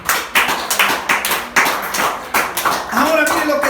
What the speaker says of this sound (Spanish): Vamos a aplaudirlo.